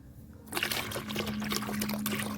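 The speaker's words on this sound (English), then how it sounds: "We will add more water to this" Water pours steadily into a container of freshly harvested cucumber seeds being washed, a continuous close trickling and sloshing that starts abruptly and runs without a break.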